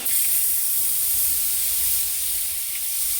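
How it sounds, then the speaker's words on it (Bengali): Onion hits hot oil in a pan while a Bengali fish curry is being cooked, giving a loud, steady, hissing sizzle that holds throughout, close up and with no voices. "তেলের সঙ্গে পেঁয়াজটা ভালো করে ভেজে নেব এই যে আমি এবার তেলের সঙ্গে এটা দিয়ে দিচ্ছি"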